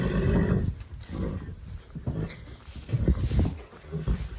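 A mare whinnying and snorting at feeding time in a stable, close and loud in several bursts, mixed with shuffling movement and what may be a dog.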